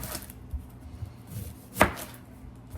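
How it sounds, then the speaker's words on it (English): A bell pepper being chopped with a knife on a cutting board, a few soft scattered cuts and one sharper knock, close by and fairly quiet. "Just chopping this."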